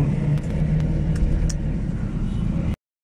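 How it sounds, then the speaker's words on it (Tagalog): Heavy road traffic heard from inside a vehicle, a close, steady engine rumble with low road noise and a few faint higher clicks, continuous for about three seconds before cutting off. "Sobrang traffic."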